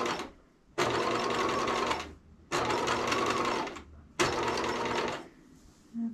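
A sewing machine runs three loud, close bursts of edge stitching along fabric for a garrison hat, each about one and a half seconds long, separated by brief pauses.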